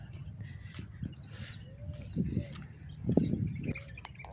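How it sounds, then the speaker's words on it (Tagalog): Birds call around a seaside public park with flowering plants in Dubai, crows cawing among them, as scattered chirps and coos rise over steady background murmur, with brief voices nearby. "May uwak ding tumutunog-tunog, ang daming ibon."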